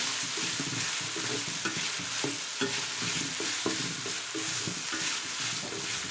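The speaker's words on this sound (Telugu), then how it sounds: "ఈ అల్లం వెల్లిపాయ పేస్ట్ పచ్చి వాసన పోయేంత వరకు ఫ్రై చేసేసుకోవాలి" Ginger garlic paste, freshly pounded, fries in a pan for mushroom fried rice with a steady close sizzle and frequent scraping stir strokes throughout, no talking.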